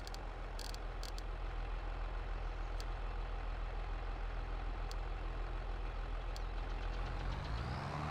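Tractor engine in a farming video game on a British farm map, running at a steady low idle throughout with a continuous rumbling drone and a few faint clicks on top.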